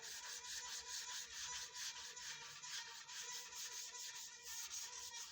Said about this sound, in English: You have a sanding block.